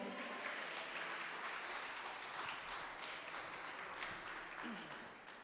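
Applause fills a church family worship service, a steady, dense wash of clapping that runs the whole time at fairly low level, with a voice faintly audible underneath.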